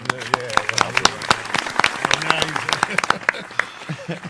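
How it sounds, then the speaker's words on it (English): Studio audience applause for a show returning from a break, a dense patter of many clapping hands with brief sharper claps, under a voice talking over it. "I'm sure the audience is applauding that we're back."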